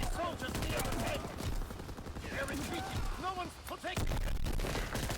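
Dense gunfire and explosions from a Call of Duty WWII multiplayer match on the Resistance map pack, with rapid bursts and booms sounding continuously under someone talking.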